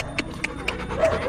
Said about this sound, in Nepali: कति मोटो हो यार यहीँ को कुकुर